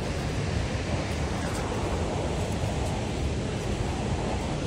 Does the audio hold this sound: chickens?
no